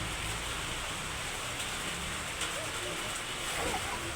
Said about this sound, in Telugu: వర్షం అయితే బాగా పడుతుంది.